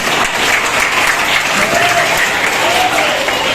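Steady, dense clapping from an audience at a Shiva devotional gathering fills the whole stretch, loud and continuous with no talk over it.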